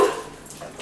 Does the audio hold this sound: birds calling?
no